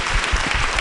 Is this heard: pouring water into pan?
no